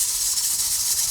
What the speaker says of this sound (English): so you don't have to sit here and listen to the canner